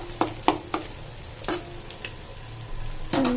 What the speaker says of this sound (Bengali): আর এদিকে আমি তরকারিটা বসাই দিলাম, পেঁয়াজ কষানো হয়ে গেছে